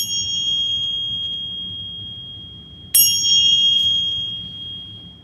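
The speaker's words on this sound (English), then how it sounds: "we're going to ring the birthday bells" Small birthday bells rung at a family morning gathering: a bright, sustained ringing tone that slowly fades, then a second crisp strike about halfway through that rings on, clear and alone over faint room noise.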